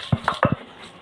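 Onion and salt are crushed on a stone grinding slab, giving four quick, dull knocks close by in an uneven rhythm, then quiet.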